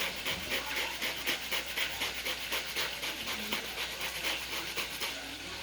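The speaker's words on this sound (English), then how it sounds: "the one thing I want to add to this is a little bit of lemongrass peeling" Rhythmic scraping and rubbing as lemongrass is peeled while making a lobster roll filling, a steady close-up back-and-forth texture repeating for several seconds with no talk.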